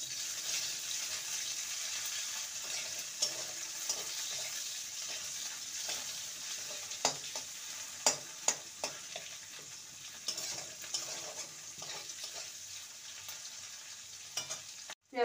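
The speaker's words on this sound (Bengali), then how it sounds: "পেঁয়াজটাকে হালকা ভেজে নেব।" Chopped onions frying in hot oil with cumin in a home kitchen pan for a kundri dish, a steady close sizzle with occasional clacks of a stirring spoon and no voices.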